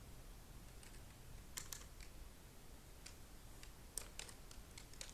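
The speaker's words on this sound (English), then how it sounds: "I apologize for the typing in the background." Quiet typing on a computer keyboard, irregular clusters of light key clicks in the background.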